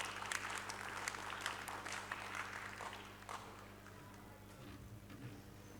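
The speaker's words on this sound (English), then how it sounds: "So round of applause" Faint, steady applause from a conference audience at a youth intersectionality session in Aotearoa New Zealand as a young woman walks up onto the stage, a dense wash of hand claps that slowly softens toward the end.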